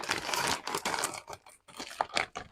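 A bag of Lay's Wavy potato chips is cut and pulled open, producing close, quiet crinkling and tearing of the foil packaging in short irregular bursts.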